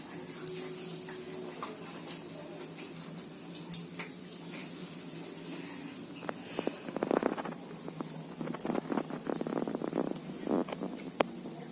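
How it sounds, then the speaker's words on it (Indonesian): Tap water runs steadily from a faucet during ablution before prayer, a soft continuous splashing with uneven bursts as hands and feet are rinsed under the flow, nearby with no talking. "jangan lupa untuk mematikan keran air"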